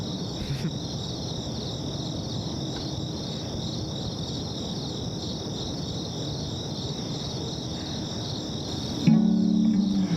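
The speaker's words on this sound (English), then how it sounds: "This song requires light crickets." Light cricket chirping added as a sound effect to a song, a steady, high, pulsing trill that runs evenly throughout, with a brief tonal sound entering at the very end.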